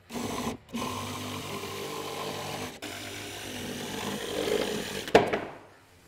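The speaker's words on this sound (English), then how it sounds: "now we're gonna take this jigsaw and come in here and cut out that scrolled line" A jigsaw cuts a curved scroll line through pallet wood for a dog bed, a steady loud buzzing drone running nearly six seconds with a brief pause early on, a short dip near the middle and a sharp knock just before it winds down.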